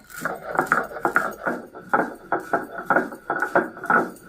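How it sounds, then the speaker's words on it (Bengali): Spices for a cabbage and rohu fish-head ghonto being ground by hand, a steady rhythm of repeated pounding and scraping strokes, close and moderately loud, with no talking. "আমি এখন মশলাটা গুঁড়া করে নেব"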